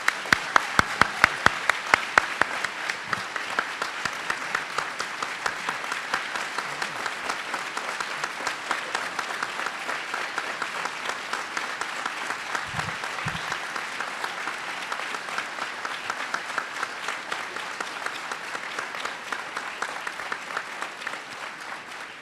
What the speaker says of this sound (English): So I think we need a thunderous round of applause for the vision and leadership of these three men.